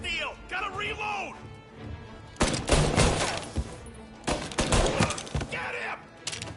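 Gunfire bursts in a Mafia video game shootout, several loud volleys of shots starting around the midpoint, mixed with shouted voices and game dialogue.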